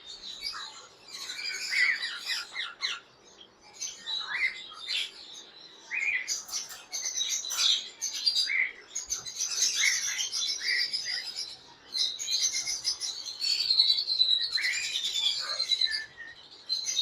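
Exotic pet birds from a breeder pair chirp and tweet continuously in bright, busy bursts, with overlapping calls close by and no talking.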